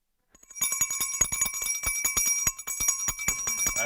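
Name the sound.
bell rung at stock exchange opening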